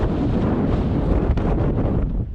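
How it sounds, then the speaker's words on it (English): Strong wind during an Iowa blizzard buffets the microphone with a loud, continuous low roar and rumble, blowing steadily for the whole stretch with no talk. "Kind of neat when the wind started blowing and the snow came through."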